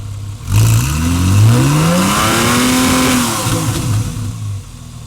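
A Porsche 911 991.1 Targa 4S with its 3.8-liter flat six revs hard, the engine note climbing in pitch to a loud scream, holding, then easing off, close and alone.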